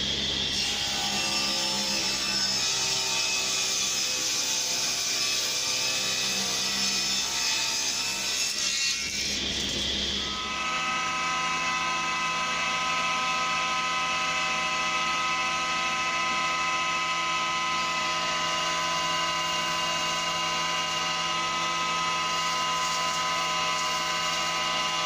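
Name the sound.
ripping wooden boards down with a saw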